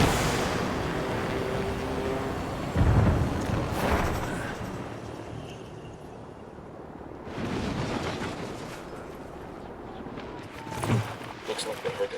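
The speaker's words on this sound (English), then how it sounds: "Looks like they heard that explosion." Explosions in Ghost Recon Wildlands, a military shooter video game. Several loud, rumbling blasts spread across the stretch, with low booms rolling under a continuous noisy background.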